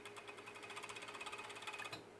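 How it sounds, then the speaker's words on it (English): A sewing machine stitching the sleeves of a sublimated long-sleeve shirt, running in a fast, even rhythmic whir of needle strokes, steady and close, with no talking. "sew the entire shirt together, starting with the actual sleeves"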